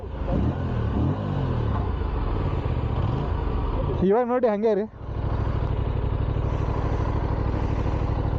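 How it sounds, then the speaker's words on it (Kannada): A Mahindra Arjun tractor engine idles with a steady, loud rumble throughout, briefly interrupted by a short burst of speech near the middle. "ಅರ್ಜುನ್ ಮಹೇಂದ್ರ ಟ್ರ್ಯಾಕ್ಟರ್."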